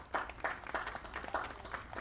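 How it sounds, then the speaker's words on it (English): A small round of applause at a veterans banner ceremony, quiet and distant scattered clapping with a loose uneven rhythm. "Round of applause."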